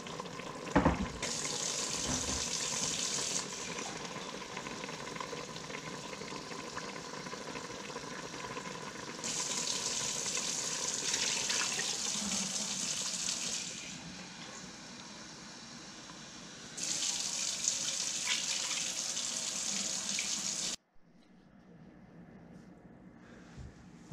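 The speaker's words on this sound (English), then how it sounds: "And then you add 3 cups of water." Three cups of water run and splash into a pot of seared chicken tenders in several long pours, over a faint sizzling, then stop abruptly, leaving a quiet hiss.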